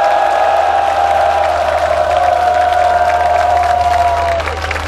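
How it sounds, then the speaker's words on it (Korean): Crowd noise at an outdoor candlelight rally, a steady loud roar of voices with a sustained shouted tone running through it, broad and continuous for the whole stretch before easing slightly at the end. "저 청와대에 귀가 뚫어지도록 힘찬 함성과 박수를"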